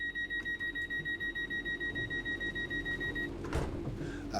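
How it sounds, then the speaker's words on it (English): Rapid steady beeping warns of train doors closing in the Train Sim World 5 simulator, about twenty even pulses over three seconds, ending with a soft thud as the doors shut. "That beeping sound was just the doors shutting"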